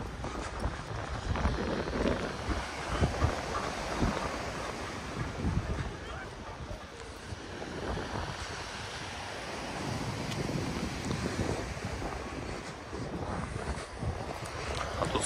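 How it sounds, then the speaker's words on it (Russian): Sea waves wash onto a beach at Adler on the Black Sea coast, a continuous rolling surf with heavy wind buffeting the microphone, fairly faint and steady with no clear voices. "Смотрите, волны побольше уже"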